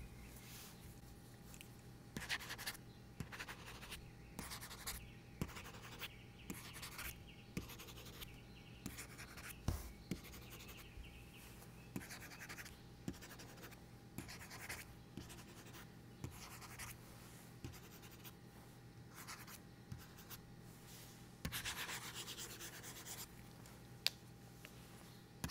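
Stylus pen scratching across the textured screen of a reMarkable 2 e-ink tablet, a steady close-up run of small scritches and taps with occasional louder strokes and no talking.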